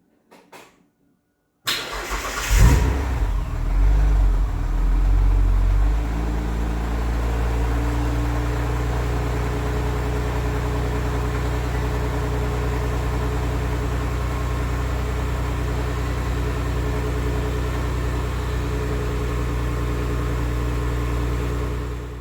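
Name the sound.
Mitsubishi Magna car engine cold start and idling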